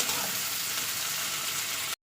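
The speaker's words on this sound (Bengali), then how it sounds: "টমেটোগুলো একটু 2-3 মিনিট একটু সাঁতলে নিতে হবে তেলের উপরে" Two tomatoes sautéing in hot oil give a steady, even sizzling hiss that stays close and moderately loud for about two seconds, then cuts off abruptly.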